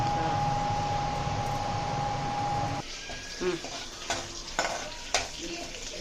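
Curry leaves frying in hot oil with mustard seeds, cumin and urad dal, a steady loud sizzle that drops after a few seconds into quieter crackling broken by scraping stirs of a spoon in the pan.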